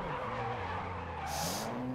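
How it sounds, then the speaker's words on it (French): A race car in GRID Autosport on PS3 brakes hard and skids, its tires squealing over a steady engine roar, with a bright hiss of tire scrub rising midway before fading. "Un peu trop freiné là par contre."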